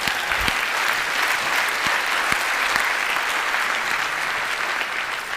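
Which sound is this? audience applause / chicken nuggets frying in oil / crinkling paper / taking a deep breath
audience applause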